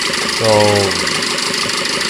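A car engine idles roughly with one fuel injector disconnected, giving a steady low hum with a brief louder throb partway through, under a voice.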